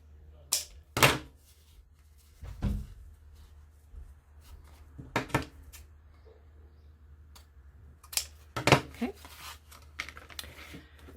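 Scissors snipping the corners off a paper craft tag: a few sharp, close clicks and cuts in small bursts separated by quiet pauses.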